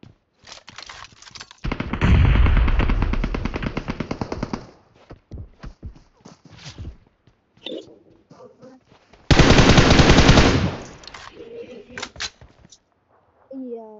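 Two long bursts of rapid automatic machine gun fire in PUBG on the Livik map, loud and close, separated by talk from players over voice chat.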